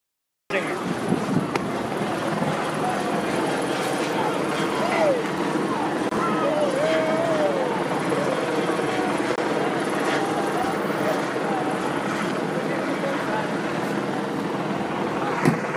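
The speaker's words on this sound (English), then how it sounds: "Police helicopter overhead shining spotlight down on everybody." A police helicopter hovers overhead during street protests in Rio de Janeiro, its rotor thrumming loudly and continuously amid crowd noise and distant voices.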